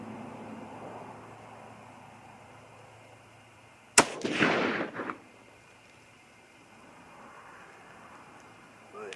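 A single sharp .308 Winchester rifle shot firing a Hornady 150-grain load, a loud sudden crack followed by a brief rolling echo that fades within about a second, set against quiet outdoor background noise.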